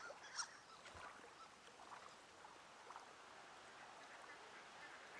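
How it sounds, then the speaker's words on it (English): Ducks quacking in the video game Firewatch, a brief faint burst early on and then scattered soft calls over a steady outdoor ambience. "I don't see any ducks. How are they making sound?"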